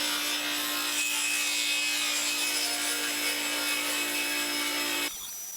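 A power saw rips wood into strips about 1.5 inches wide for a porch swing, a steady loud whining cut lasting about five seconds before stopping abruptly.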